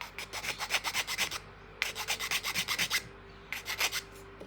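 Sandpaper is rubbed over the wood of an antique hand plane to take off modern saw marks, in three runs of quick, even back-and-forth strokes, close and moderately loud, with short pauses between runs.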